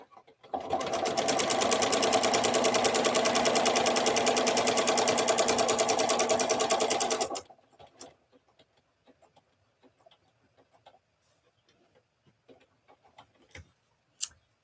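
A sewing machine stitches a quarter-inch seam around a flag quilt with a rapid, even, close mechanical ticking for about seven seconds, then stops, followed by quiet fabric handling and small clicks.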